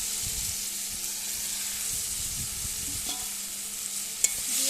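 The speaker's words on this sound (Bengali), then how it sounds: "পটলগুলো মশলার সঙ্গে একটু নাড়িয়ে নেবো" Fried pointed gourd stirred into spice masala that has been cooked until the oil separates, giving a steady close sizzle with soft scraping stirs, alone without talk, and a sharp clink near the end.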